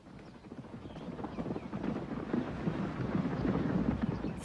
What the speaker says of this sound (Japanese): ライオンのお目当てはどうやらシマウマの群れ。